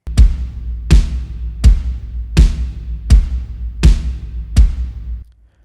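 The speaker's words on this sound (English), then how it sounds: "That's basically just kick and toms going on right there." Seven evenly spaced booming hits from a Native Instruments Studio Drummer virtual kit, kick and toms only, each deep strike decaying before the next, loud and close with no voices.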